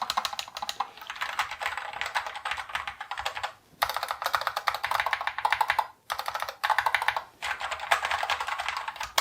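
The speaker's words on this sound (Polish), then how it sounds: "Sprawdźmy sobie jeszcze głośność klawiszy. Są tu przełączniki RED, więc są dość ciche." Rapid, continuous typing on a wireless 60% low-profile mechanical keyboard with red switches, fairly quiet clacks in a steady stream with two short pauses, close up and without speech.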